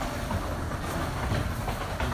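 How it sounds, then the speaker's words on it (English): Several skateboards roll past outdoors at night, a steady loud wheel rumble and clatter holding throughout with no talking. "as these guys ride by on their skateboards, please excuse all of the noise"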